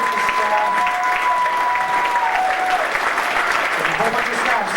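A convention audience applauds at a furry convention, sustained dense clapping filling the whole stretch, loud and close, with a faint tonal whistle or feedback line and some voices mixed in.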